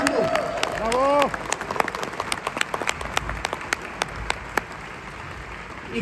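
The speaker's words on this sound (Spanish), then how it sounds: "A ver, un aplauso, estamos regresando." Audience applause fills a keynote hall at a Dell Technologies Forum, starting with a cheering whoop and then settling into steady clapping, with a voice heard briefly over it.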